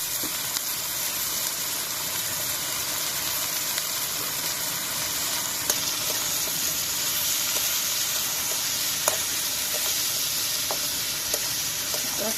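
Koi fish being stir-fried in a pan with salt and ginger-garlic paste, giving a steady, moderately quiet sizzle and hiss with a few faint scrapes of stirring and no talk.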